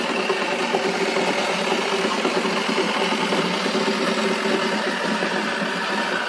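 A toy washing machine spins with a steady, continuous motor whir and rattle. It is close and even throughout, with no talking.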